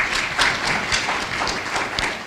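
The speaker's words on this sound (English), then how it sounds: "Can we give her a round of applause?" An audience at an American Bar Association Senior Lawyers Division spring meeting applauds Karen Polk-Onokwe with brisk, continuous clapping of moderate loudness from start to end.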